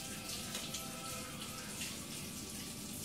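Steady rush of hot tap water running into a sink, continuous and fairly close, with no voices.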